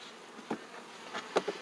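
Honeybees buzz around an open hive, with a soft hum and a few brief, close passes rising above it.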